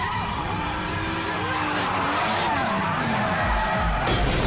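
A car drifts through tight quarters in a Tokyo street race from the film Tokyo Drift, with tires squealing and skidding over a loud, continuous engine roar.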